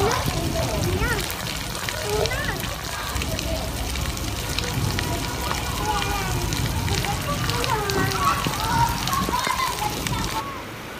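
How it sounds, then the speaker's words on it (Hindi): Heavy rain after a spell of heat pours steadily in a broad, continuous hiss that stays loud for the whole stretch, with people talking and other voices mixed in over it. "आज बारिश बहुत हो रही है"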